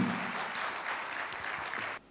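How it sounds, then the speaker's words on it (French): An audience at an entrepreneurship training event applauds a welcome speaker, a dense, even patter of clapping for about two seconds that then stops abruptly. "sous vos applaudissements nourris"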